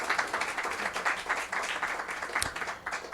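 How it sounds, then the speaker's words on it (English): Clapping from a meditation concert audience for a performer, a moderate, even patter of applause filling the whole moment without voices. "So give her a big hand of applause."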